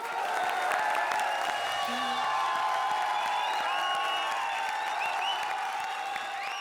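An audience claps steadily with scattered cheers at a TV comedy show, a broad wash of applause under a faint musical tone, holding at moderate loudness.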